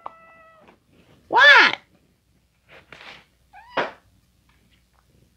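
A cat meows several times in short, distinct calls, one loud drawn-out meow followed by two softer ones, close by, with a person briefly speaking.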